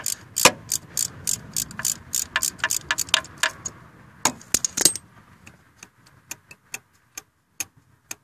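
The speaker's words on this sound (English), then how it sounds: "And we're pretty much free to loosen that bolt." A ratchet wrench loosens a bolt on the CV axle of a VW MK2/MK3 Golf or Jetta, giving a quick series of sharp, close ratcheting clicks that thin out into sparser, evenly spaced ticks.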